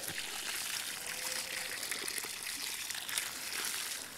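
Water pours onto the soil at the base of a newly planted Siberian kiwi, a hardy climbing vine, in a steady, continuous splashing gush that stays even and fairly close throughout, with no talking.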